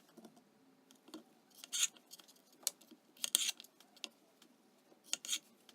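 A knife cuts trimmed zucchini in half, making a few short, crisp slicing and tapping sounds on a board, close and fairly quiet with pauses between cuts.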